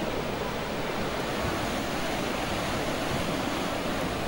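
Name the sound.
Gaganachukki waterfall flowing in full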